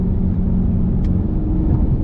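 Steady, loud rumble of a Dodge Hellcat's 6.2-liter supercharged V8 on 275 rear tires, droning evenly throughout with no talk.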